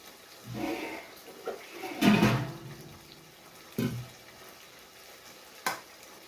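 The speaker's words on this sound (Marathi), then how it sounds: "ते चांगलं परतलं गेलं आहे, त्यामध्ये मी पाणी टाकणार आहे." Water is poured into a pan of moringa drumstick pods sautéed in oil, giving a few splashy hissing bursts over a quiet background of low stirring and sizzle.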